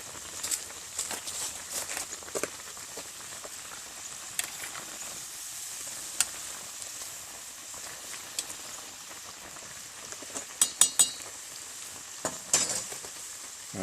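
Cayenne-seasoned french fries frying in a hot pan of oil, a steady soft sizzle with a few light scrapes and clicks as they are stirred now and then, close and fairly quiet.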